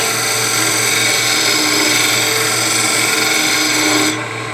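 Wood lathe spinning while a turning tool is rocked across the work to shape beads, a loud continuous cutting rasp over a steady motor hum that stays close and even, with the high cutting hiss ending abruptly near the end.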